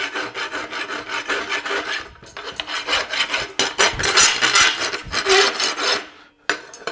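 Close, loud rasping of a farrier's file against the back of a horseshoe, continuous rough scraping strokes that pause briefly near the end before resuming.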